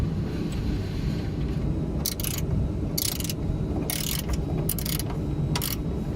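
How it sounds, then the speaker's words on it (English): Two 18mm spanners tightening a nut and bolt on the rear of an Audi A6 C7 front lower track control arm, several short bright metallic ratcheting bursts over a low rumbling background. "tighten this section back up at the back here with your two 18mm"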